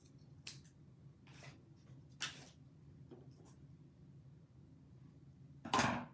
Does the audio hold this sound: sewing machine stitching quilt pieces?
no